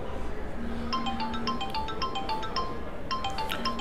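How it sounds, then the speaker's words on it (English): Electronic ringtone of a phone taking an incoming anonymous call during a telecom services demo, repeating as a series of bright chirping tones over steady background hum, fairly loud and close with no talk. "And this time Bob gets a call"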